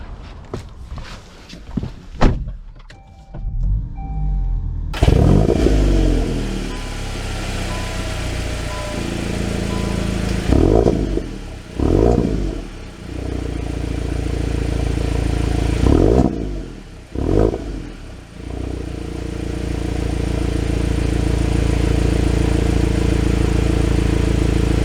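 A 2023 VW Golf GTI starts up after some clattering and door sounds, then its engine idles and pulls away with a steady, moderately loud drone and a few swelling revs heard from inside the cabin.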